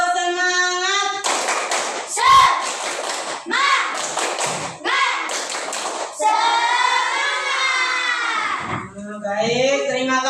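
Classroom group doing a rhythmic clapping chant, with bursts of sharp claps in patterned groups alternating with children chanting and a teacher's voice.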